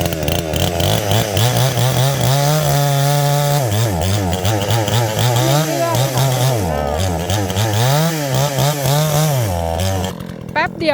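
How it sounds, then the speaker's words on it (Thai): A chainsaw buzzes loudly and continuously as it cuts down a tree, its pitch rising and dipping as it bites into the wood, with a short rattle near the end. "เขามีเลื่อย"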